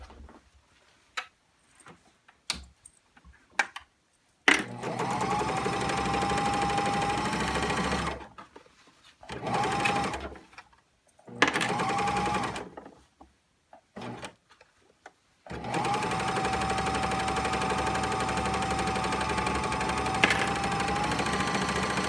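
A serger overlocks the edges of denim fabric for jeans pockets and facings, starting in short stop-start bursts with clicks between them, then running in a long steady whir, close and loud.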